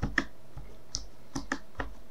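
Windows key and space bar pressed on a computer keyboard, half a dozen separate close key clicks spaced irregularly, no talk.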